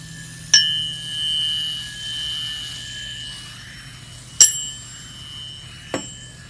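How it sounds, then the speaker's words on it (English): Three sharp metallic taps on a titanium yo-yo, each ringing out like a small bell with a long, clear sustained tone that slowly fades. "if you tap it on something, you get a ring like a bell"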